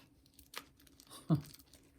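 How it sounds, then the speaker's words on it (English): Two short crinkly snips of scissors cutting the plastic corner off a pastry bag close up, the second louder, against near silence. "I'm gonna take this pastry bag and I'm gonna just cut the plastic corner right off"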